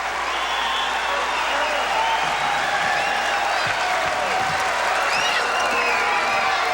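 A packed crowd of about 6,400 at the A.G. Spanos Center, University of the Pacific, cheers and applauds on its feet during the 1986 NCAA women's volleyball championship against Nebraska, a continuous loud roar with voices mixed in.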